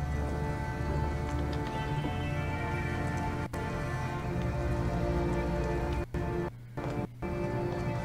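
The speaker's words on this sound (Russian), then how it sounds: "на улице ливень" Heavy rain from Detroit: Become Human pours in a steady, dense wash that runs unbroken, with a few brief dips near the end and no voices.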